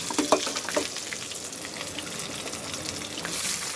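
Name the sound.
frying garlic in pan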